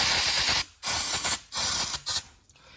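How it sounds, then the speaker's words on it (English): Short hissing bursts of brake cleaner sprayed onto engine parts of a 2015 Ford 3.7/3.5 engine, three close sprays separated by brief pauses. "Spray a little bit more brake clean on it"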